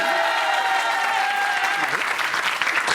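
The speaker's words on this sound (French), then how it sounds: "on peut l'applaudir" Studio audience applauding a guest on a French television show, broad continuous clapping that stays loud and full, with a thin sustained tone beneath it early on.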